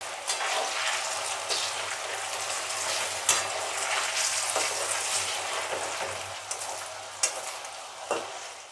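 Potato pieces sprinkled with turmeric fry in hot oil for crispy Bengali garlic aloo bhaja, a loud continuous sizzle with periodic clinks and scrapes of stirring.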